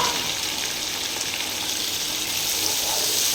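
Tomatoes sizzle and hiss steadily in a hot pan of frying mutton biryani base, a continuous bright crackle at even volume with no talk.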